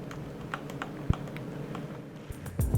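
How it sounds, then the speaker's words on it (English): Buttons on an XP-Pen Deco LW Bluetooth drawing tablet are pressed in a quick series of crisp, close clicks, ending with a quick cluster of louder presses, without any speech. "So the buttons are pretty clicky."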